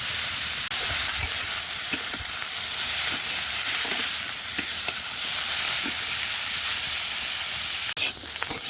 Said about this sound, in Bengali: চিচিঙ্গে আলু একসঙ্গে ভাজা করে সেটা দিয়ে দিলাম